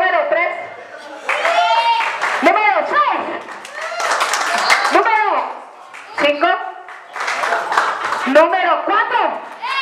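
Audience clapping at a children's party with clowns, bursts of applause rising and falling under a loud, near voice speaking throughout.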